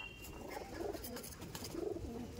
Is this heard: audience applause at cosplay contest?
no